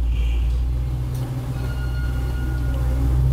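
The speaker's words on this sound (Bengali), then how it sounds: "আর আমাদের ভাগ্য ভালো ছিল যে আমরা টয় ট্রেনের দর্শন পেয়ে গেছি।" Darjeeling toy train running on the Kurseong route in the hills, a steady low rumble with faint rail rattle throughout, no voices.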